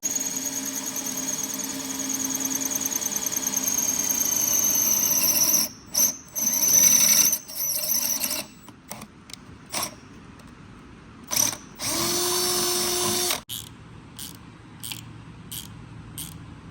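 A power drill with a slightly smoked bit whines in several bursts, a long run followed by short stop-start pulses and another sustained spin, fairly close with nobody talking, during an LS3 engine swap into a car.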